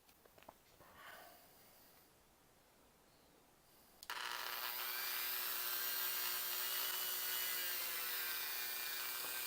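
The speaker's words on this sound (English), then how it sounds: "So that's what I'm going to do is sand right up there." A rotary tool set to its slowest speed sands a plastic classic action figure. After a quiet start, a loud, steady, close grinding whir kicks in abruptly and runs continuously to the end.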